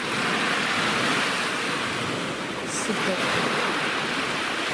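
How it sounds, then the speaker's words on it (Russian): Sea waves breaking on a shore make a continuous loud wash of surf, with a brief swell in the middle, while someone speaks a single short word over it. "вот этот звук этих волн, вот это такое шум моря"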